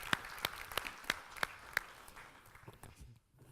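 A round of clapping at a Paris tech-conference roundtable: a steady run of sharp, evenly spaced claps at moderate distance, thinning out and fading after a couple of seconds into quiet room noise.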